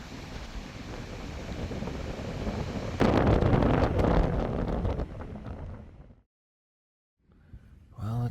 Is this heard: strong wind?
yes